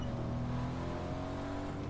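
A car engine hums steadily while driving in Fortnite, a constant tonal drone held at even speed, heard alone and fairly faint.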